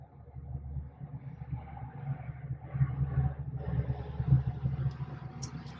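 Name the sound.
bus driving past outside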